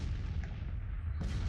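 Rumbling gunfire and artillery in the Civil War strategy game Grand Tactician, a low continuous booming roar with distant cracks, faint and muffled throughout.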